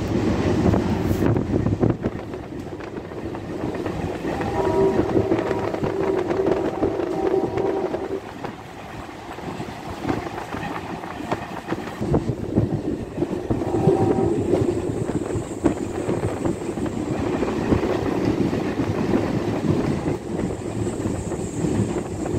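An MMTS local train on the Lingampalli to Medchal line rumbles steadily along the rails in a continuous roar heard from inside the coach, with wind noise and faint tonal whines from the motors, and no talk.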